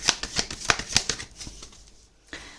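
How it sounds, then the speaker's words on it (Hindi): Tarot cards being shuffled in a Hindi-language reading: a run of crisp, close riffling bursts in quick rhythm, then fading to near silence before one last short rustle. "3 शफल्स करते हैं एंड देखते हैं आपके लिए पास्ट, प्रेजेंट एंड फ्यूचर के कार्ड्स क्या आते हैं।"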